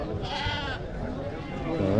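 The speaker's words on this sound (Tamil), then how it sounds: "வெள்ளாடு செம்மறி ஆடெல்லாம் கொண்டு வந்திருக்காங்க பாருங்கள்" Goats and sheep bleating at a busy livestock market, a close, wavering bleat rising above a dense background of crowd chatter and voices.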